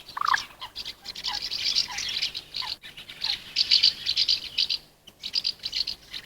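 Birds chirping and singing in a dense, continuous chorus, high bright calls overlapping with a few lower notes, fairly close and steady.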